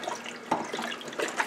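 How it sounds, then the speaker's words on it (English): Chicken broth poured from a box into pumpkin puree, a steady soft liquid splashing and gurgling with slight surges, close and alone without talk. "we're just going to add whole box of chicken broth"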